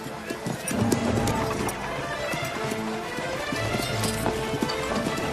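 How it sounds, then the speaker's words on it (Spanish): Horses clip-clop at a gallop, each carrying two armed men as a large army sets off, the hooves a busy rhythmic patter under music and a snort or whinny. "Un caballo puede llevar a 2 hombres armados a la máxima velocidad."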